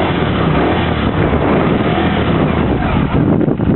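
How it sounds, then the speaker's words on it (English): A Moto Guzzi V11 motorcycle fitted with a Mistral crossover exhaust is revved hard, producing a loud, dense, continuous deep exhaust roar that stays steady, with a slight dip at the very end. "let's give a twist of that throttle and hear what she really sounds like."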